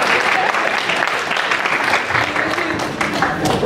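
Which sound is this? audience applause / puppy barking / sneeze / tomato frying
audience applause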